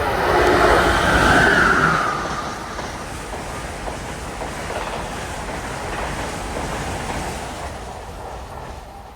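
An Amtrak ACS-64 electric locomotive, number 619, leads a westbound Northeast Regional past a station, a loud roaring rush that swells early, then settles into a steady rumble of rolling wheels and rail clatter.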